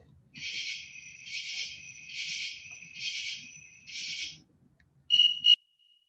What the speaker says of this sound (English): This is a katydid. They have a very different call. This is a series of 3 pulses.